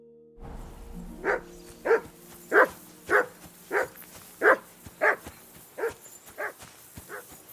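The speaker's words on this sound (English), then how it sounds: "Jesus, Henry, that barking's driving me nuts. Can you get your dog to shut its beak?" A dog in the video game Kingdom Come: Deliverance II barks about ten times in a steady, evenly spaced series, loud and close, over a quiet background hum.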